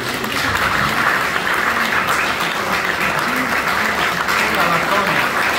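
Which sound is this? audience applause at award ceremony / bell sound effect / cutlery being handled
audience applause at award ceremony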